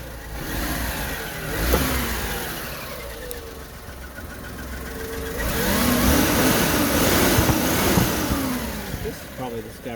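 A 1997 minicab engine, idling low, runs close by and rises into a revving swell partway through before settling back, a steady mechanical rumble throughout.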